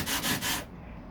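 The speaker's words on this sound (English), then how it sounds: "When I do the wet sanding here, I'm going to take that 40 grit and get this" Wet sanding fiberglass on the passenger door of a 1969 C3 Corvette with 40 grit sandpaper and soapy water: a few loud, rough scraping strokes, close up, that stop abruptly and leave quiet room tone.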